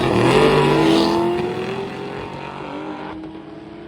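Race car at a drag race, a loud engine roar that starts strong and fades as the car pulls away, heard alone with no talk.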